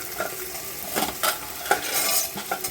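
Vegetable pulao with cashews, raisins and green chilli is fried and stirred in a pot, with a soft sizzle under repeated scraping clinks of a spoon against metal.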